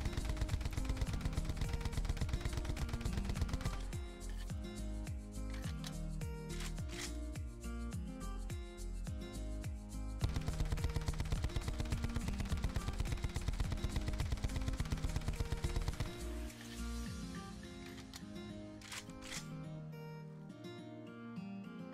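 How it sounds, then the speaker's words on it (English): TigerShark LMG with a grip attachment firing in Call of Duty: Black Ops 4, heard as rapid, sustained automatic bursts at close range, mostly continuous with a few short breaks near the end. "This is me shooting this weapon with the grip attachment."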